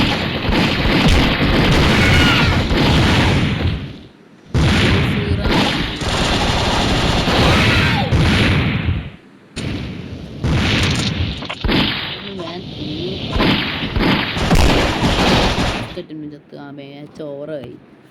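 Bomb explosions and weapon fire from the mobile shooter game Mini Militia rumble loudly and almost without pause, layered under continuous talking from a player.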